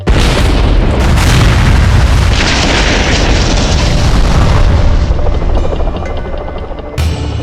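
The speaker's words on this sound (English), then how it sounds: "He sees more gunfire, then 2 massive explosions." Massive explosions at the airport during the Munich Olympic massacre: a loud, continuous roar of blasts and rumble that fills the whole stretch, ending in a sharp burst.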